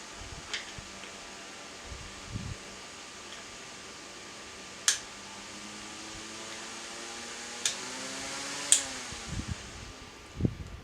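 An electric fan hums steadily, then winds down after being switched off, its tone gliding lower as the blades slow, with a few sharp clicks from the switch and handling; quiet and close, with no voices.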